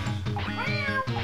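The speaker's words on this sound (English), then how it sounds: "Jim, listen to how funny it is when you hit the little kitties." Cartoon kittens meowing when hit in an Itchy and Scratchy video game, a few short, close, high-pitched meows in quick succession.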